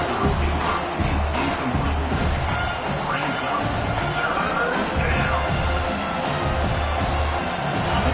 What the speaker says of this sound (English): 3rd down and the crowd really getting into it